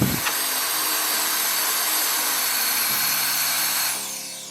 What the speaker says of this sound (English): And now we'll test it on full blast.